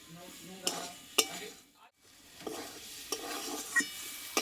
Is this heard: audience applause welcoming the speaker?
no